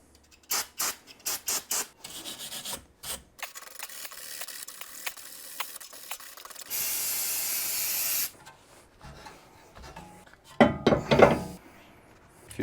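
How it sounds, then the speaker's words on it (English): Brake cleaner sprays onto BMW M3 brake parts with Zimmermann coated discs in a long, loud continuous hiss of about two seconds, between sharp clicks and clatters of tools and parts nearby. "Brake cleaner."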